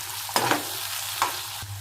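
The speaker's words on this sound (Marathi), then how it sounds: "आणि आता छान हे एकत्र करून घेऊया." Oats upma mixture being stirred in a frying pan, a spoon scraping the pan in a few distinct strokes over a low steady sizzle, close and moderately loud.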